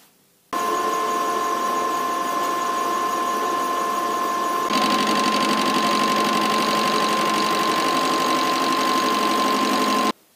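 A welder runs on a thick metal part after its setting is raised from 38 to 50, a loud steady buzzing hum that holds for about ten seconds and turns harsher partway through.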